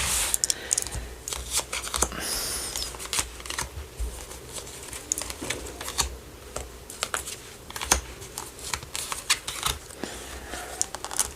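Cards are shuffled for a fortune-telling reading, producing rapid crisp riffles and flicks close by in irregular bursts, with short taps and pauses between them.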